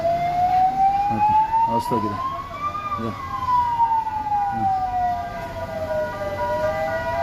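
An ambulance siren wails at a road accident scene in Thalapady, a loud rising and falling tone sweeping past nearby over traffic, with someone talking briefly.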